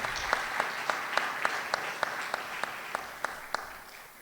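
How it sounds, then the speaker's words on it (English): Satsang audience at Sri Sarada Devi Ashram applauds pupils, a steady moderate patter of many hands with a few sharper distinct claps standing out, fairly distant and fading slightly toward the end. "please could we have a round of applause for these pupils"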